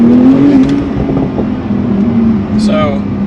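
Porsche 992 Turbo S flat out in second gear on a damp, bumpy road, its engine droning steadily and loudly close by, with a brief whooshing flutter near the end.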